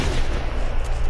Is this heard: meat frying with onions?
no